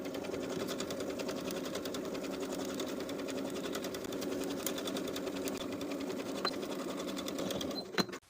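A sewing machine edge stitches along the bottom hem of a cover-up top in one continuous, steady run of needle strokes, close and even, until it stops sharply at the end.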